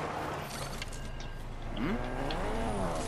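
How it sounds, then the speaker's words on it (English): Car engine in the video game Fortnite, revving and rising in pitch as the vehicle drives nearby, heard over a steady game background with faint voices. "You hear a car, right? I hear it too."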